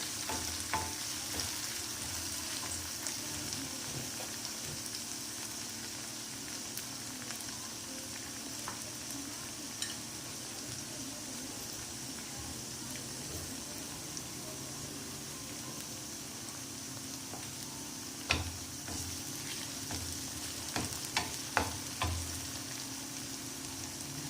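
Coriander sizzles in hot oil in a pan for a spiced black chana masala, a steady close crackle with a few sharp stirring clinks near the end.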